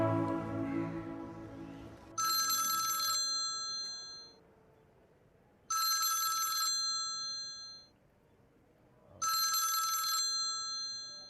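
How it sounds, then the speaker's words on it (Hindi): A telephone bell rings three times in evenly spaced bursts, bright and close, with quiet gaps between rings. "ये आपके नंबर से फोन आ रहा है।"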